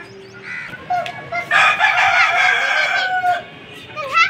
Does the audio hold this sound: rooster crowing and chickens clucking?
yes